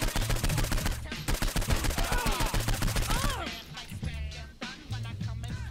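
Rapid, loud, evenly spaced bursts from a stun gun in Saints Row IV, firing in a quick rhythmic stream for several seconds, then thinning out amid scattered game effects.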